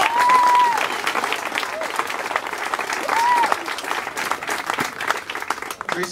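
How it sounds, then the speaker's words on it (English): Audience applause at a mayoral campaign kickoff in Pitt Meadows, steady crowd clapping throughout with a couple of faint tonal chirps mixed in. "So big round of applause"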